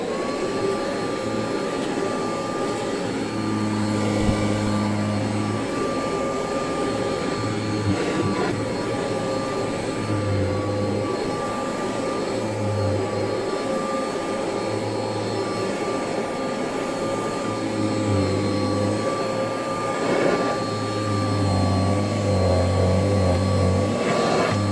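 Kirby Heritage II Legend vacuum cleaner running steadily, a loud close motor whine and rushing airflow that holds throughout, with periodic low pulses as it is pushed back and forth.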